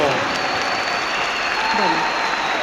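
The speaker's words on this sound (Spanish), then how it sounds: "Un aplauso para esta hermana." An audience at a Catholic talk gives a sustained round of applause for a woman, a dense, steady wash of clapping that fills the moment while a voice speaks faintly underneath.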